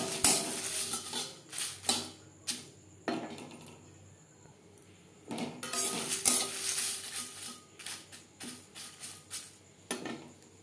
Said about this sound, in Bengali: কড়াই যা গরম আছে তাতেই তেজপাতা বেশ ভালো করে ভাজা হয়ে যাবে।